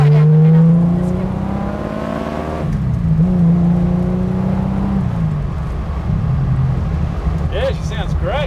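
A Holden Torana GTR XU-1 engine pulls and revs up close while cruising, its rising and falling drone steady across the stretch, with people talking over it in the cabin.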